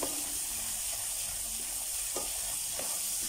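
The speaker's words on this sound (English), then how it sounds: "Starting to sizzle." Garlic, ginger and curry leaves with tomato paste sizzle steadily in a hot pan, with a few soft stirring scrapes over the constant frying hiss.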